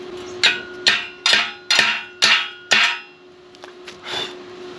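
A hammer chipping slag off a fresh weld: six sharp metallic knocks at an even pace, close and loud, then a few fainter taps trailing off.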